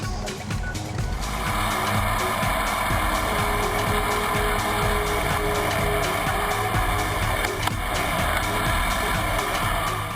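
A BMW F800GS and a Suzuki DR650 motorcycle cruise down the road, their engines droning continuously under heavy wind rush, loud and steady throughout.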